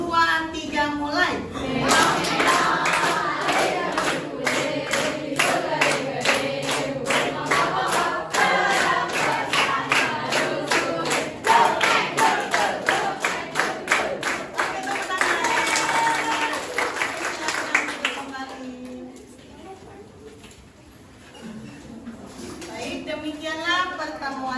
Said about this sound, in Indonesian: Kita berdiri sambil tepuk tangan ya.